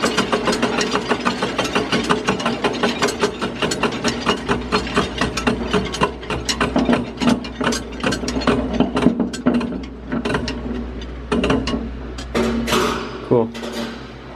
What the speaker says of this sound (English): The other noise is clickety click of the blades.